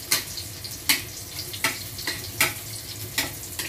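Garlic sautéing in a pan for special bihon noodles, a steady low sizzle broken by several sharp scraping stir strokes at roughly even intervals, close and moderately loud with no talking.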